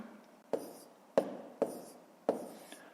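Pen writing a multiplication problem on paper, four short scratchy strokes at roughly even intervals, close and clear with quiet between them.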